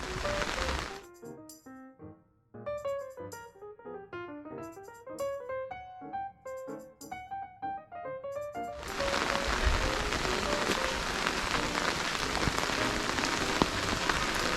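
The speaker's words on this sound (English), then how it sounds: "And it's raining." Rain falls outdoors in Juneau, Alaska, a steady broadband patter that sets in after a stretch of music and then continues alone, close and moderately loud.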